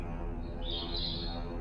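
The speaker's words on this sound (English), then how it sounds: "It could have been the chirping of some simple morning birds outside" Morning birds chirp faintly outside, a thin high twittering that rises briefly in the middle over a steady low background hum.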